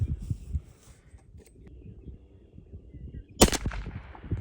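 A Stevens 301 shotgun loaded with Longbeard number 5 lead shot fires once at 20 yards outdoors, a single loud, sharp blast that rings briefly, after a stretch of quiet background noise with faint birdsong.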